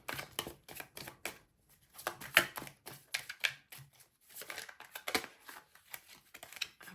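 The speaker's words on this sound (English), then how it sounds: "Just shuffling your cards as good as possible." Oracle cards being shuffled by hand in a quiet room, a run of soft papery riffles and taps in uneven bursts, close and fairly faint, with no talking.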